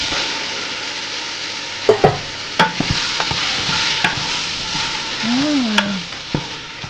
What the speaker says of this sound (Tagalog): Parang pre-prituhin ko lang yan ng konti. Mag-brown siya.